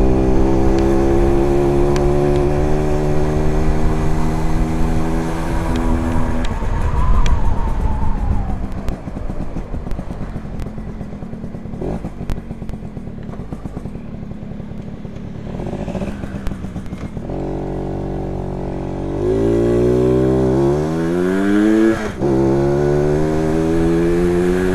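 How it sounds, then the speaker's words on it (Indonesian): A Yamaha V80 two-stroke motorcycle engine revs and accelerates on a test ride, loud and close, rising in pitch through the gears with a brief easing off midway before climbing again. "motor ini tuh responsif guys, belum diporting, belum apa."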